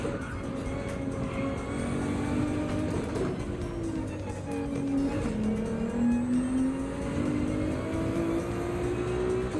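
A black Ferrari 296 race car at Brands Hatch in Gran Turismo runs continuously, engine note loud and close, rising and dipping in pitch as it accelerates and brakes through corners.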